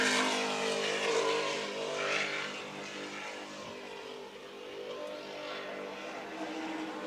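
Superboat racing powerboats lapping during a Grand Prix race, a broad, continuous engine roar heard from a distance that swells and fades slightly as boats pass.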